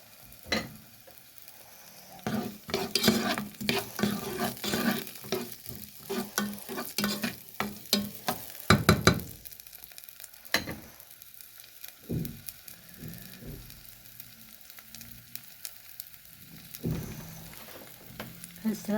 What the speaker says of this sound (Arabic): هسه راح احمس سوري لا، احمس البصل شويه